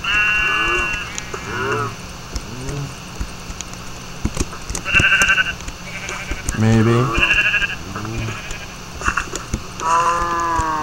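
Sheep bleat repeatedly nearby, loud wavering calls overlapping one another, with a person talking briefly between them.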